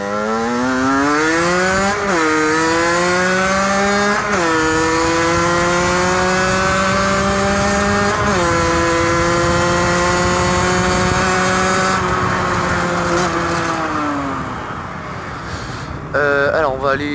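A motorcycle ridden during wheelie practice, its engine loud and close, revs climbing and dropping through several gear changes over steady wind noise, with no talking.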